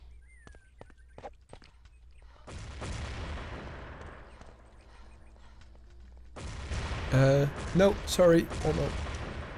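Grenade blast and gunfire during a competitive team shooter match between Belgium and Portugal, a broad burst of noise followed later by a louder cluster of shots and bangs, with a voice speaking over parts of it.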